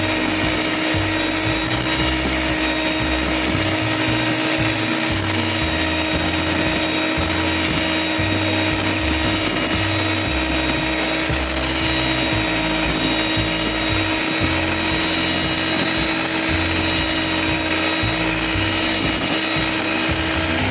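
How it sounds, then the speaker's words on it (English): Hand blender whirring continuously as it churns cream into homemade white butter, a loud steady motor drone with a rough, sloshing low churn underneath. "I'm just going to switch off my hand blender"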